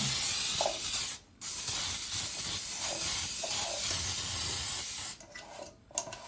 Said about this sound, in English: So now I'm going to spray my pan.